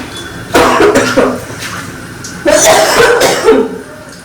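A woman cooking Surti papdi shaak in a home kitchen coughs in two close, loud fits, each a quick cluster of harsh coughs separated by a short pause.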